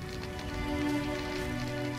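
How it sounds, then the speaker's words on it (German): Rain falling in The Witcher role-playing game, a steady patter of drops on surfaces mixed with a constant low hum of game ambience, no one speaking. "Dämlicher Regen"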